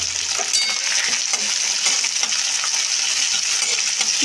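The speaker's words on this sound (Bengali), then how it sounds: "এবার পেঁয়াজ কুচি দিল, দিয়ে আবার নাড়ি, দিয়ে নাড়তে থাকবে।" Chopped onions fry and sizzle in a pan for a kochu shaak dish, a steady bright hiss with scraping stirs and light clinks of the spatula throughout, close and continuous with no talk.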